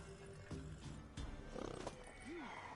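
A horse in The Witcher video game snorts and gives a short whinny, with a few hoof thuds and rustles in a quiet, distant-sounding outdoor scene.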